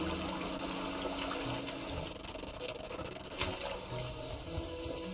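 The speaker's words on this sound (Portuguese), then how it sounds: "Essa gotinha de água aqui. Olha, caiu." A water droplet falls in the video game Arise: A Simple Story, landing as a single brief splash partway through, set against a dense, steady wash of watery game ambience and music.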